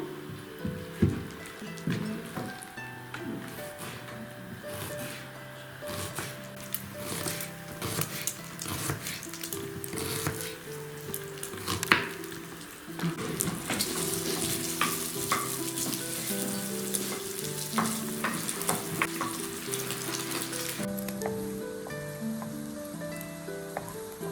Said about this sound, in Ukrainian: Сало наше жариться до золотистого кольору.